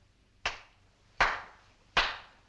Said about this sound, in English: I clap my hands 3 times, thus.